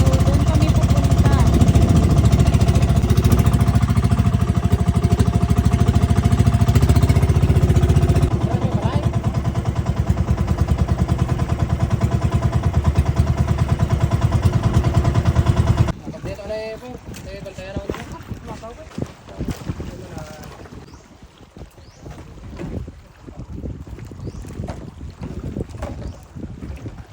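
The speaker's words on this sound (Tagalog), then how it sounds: "Ito nga pala ang aming pump boat." A pump boat's engine runs loud and steady on the water on the way to Naoway Island, with a droning hum and wind buffeting the microphone; the roar drops off sharply about halfway through, leaving a quieter, choppier rumble.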